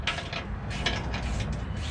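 A jack is cranked by hand under a Chevrolet Traverse during a motor mount replacement, giving short, repeated ratcheting clicks and mechanical rasps, close and fairly faint.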